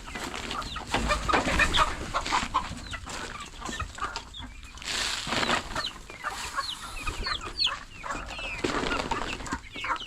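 Chickens on a farm cluck in short, scattered bursts, several birds close by calling over one another in an uneven chatter, with no one talking.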